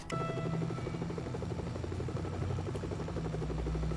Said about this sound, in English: Helicopter, I need you.